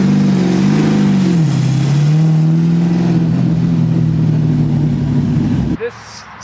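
A race car's engine drones loud and close as it accelerates on a first-gear 60-foot street test hit, pitch rising then levelling into a steady roar before cutting off abruptly near the end.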